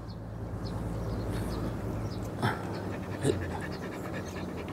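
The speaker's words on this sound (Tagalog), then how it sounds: "dinig yung hingal mo" A puppy pants steadily and close, with rapid rhythmic breaths continuing throughout and a couple of brief louder bumps partway through.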